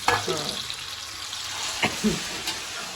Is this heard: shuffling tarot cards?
no